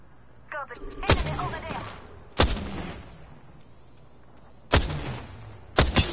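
Gunfire in the Apex Legends video game during a ranked match: a few sharp, loud shots spaced unevenly across the clip, with a brief voice fragment between them.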